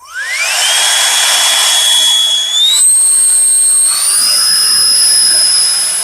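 A cordless leaf blower whirs up to a loud, steady high-pitched whine, stepping higher in pitch twice through its speed settings, with rushing air underneath; no voices.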